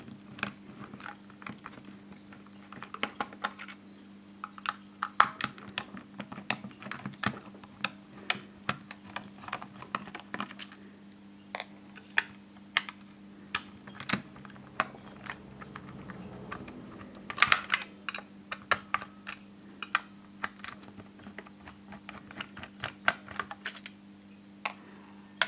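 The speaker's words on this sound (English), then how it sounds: "we just start off by taking all the screws out" A screwdriver clicks and ticks sharply while screws come out of a Game Boy Pocket case, irregular small taps and scrapes over a low steady hum, close and quiet, with no talking.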